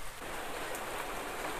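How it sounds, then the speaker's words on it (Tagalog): Heavy cartoon rain pours in a dense, steady hiss with no talk. "Sobrang lakas ng ulan."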